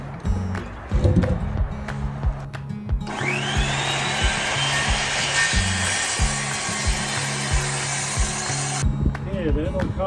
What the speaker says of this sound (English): then we cut our joist to length